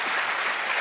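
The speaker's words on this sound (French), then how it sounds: "J'aimerais que vous applaudissiez très fort nos trois invités." An audience applauds three guests at the close of a panel discussion, steady dense clapping filling the whole short moment with no voices over it.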